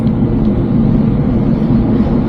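A garbage collection truck on a quiet residential street in Australia gives a steady, loud, low engine rumble with broadband road noise that holds evenly throughout and has no talking.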